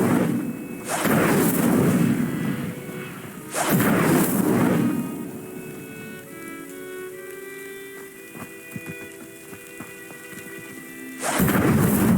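Spell effects in Hogwarts Legacy, including the Incendio fire spell: three loud whooshing bursts of flame, each roaring for a second or more, with a softer crackling, twinkling tail between them and no talk.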